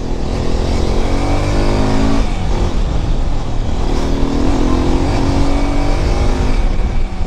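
Hero Xpulse 210 motorcycle on a test ride, its exhaust note droning loud and steady throughout with rising and falling engine tones as it revs and accelerates, no talking.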